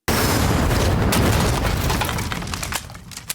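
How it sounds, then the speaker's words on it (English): Anime punch impact built from an explosion with its tail cut off: a loud, dense boom that hits at once and stays heavy before breaking into a few sharp pops near the end. "it's another explosion, but we've just sucked the tail out of it"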